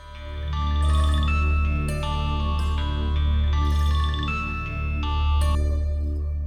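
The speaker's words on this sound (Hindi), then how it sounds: "किसका फोन था?" A mobile phone rings loud and close with an incoming call, a repeating electronic melodic ringtone over a sustained tonal backing, with no talking.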